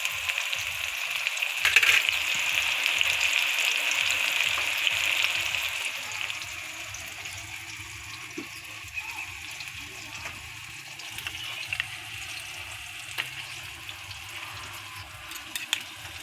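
Egg frying with tomato in a pan gives a steady close sizzle, loudest early and then easing off a little, with occasional light scrapes and ticks from stirring.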